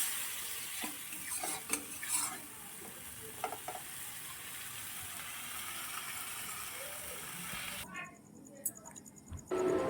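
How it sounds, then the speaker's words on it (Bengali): Spice masala for tarka dal being sautéed in a pan, a steady close sizzle with intermittent spatula scrapes and knocks against the metal, and a brief burst of other noise near the end. "তরকার মশলা কষানো হচ্ছে আমার এখন।"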